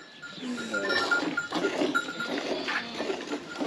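Goats bleat in a village, with several calls rising over a busy, steady outdoor background that seems to carry animal bells too.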